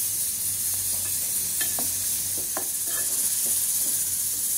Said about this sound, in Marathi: आता आपण हे सगळं नीट मिक्स करून घेऊया.